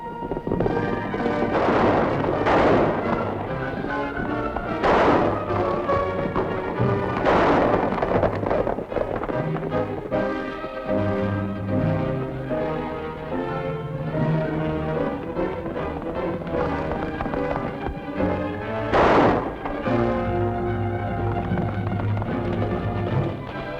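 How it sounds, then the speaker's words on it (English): Gunshots in the 1951 western TV series The Cisco Kid ring out as a few sharp cracks, scattered over about twenty seconds beneath a continuous orchestral score. "shoot them, Cisco?"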